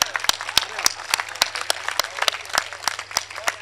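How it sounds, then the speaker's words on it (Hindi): Seated audience at a Hindi stage event claps in a regular rhythm, sharp evenly spaced claps standing out above a softer bed of crowd applause, with a low steady hum underneath. "मैंने सबके लिए तालियाँ बजवाई हैं"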